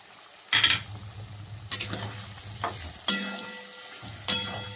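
Onion, green chilli and garlic fry in fish oil in a pan, with a steady sizzle broken by four loud bursts of stirring and scraping against the pan, close and with no voices.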